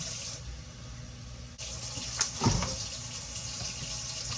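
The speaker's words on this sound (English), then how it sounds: "rinse off your mushrooms, and put them in a bowl" Mushrooms rinsed under a running kitchen tap, a steady close splash of water with a few brief clunks and splashes partway through, with no talk.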